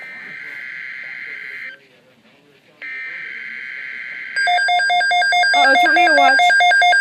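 EAS alert tone for a tornado watch, a steady two-tone attention signal that breaks off briefly and resumes, followed by loud high digital data bursts with beeping tones; talk runs underneath.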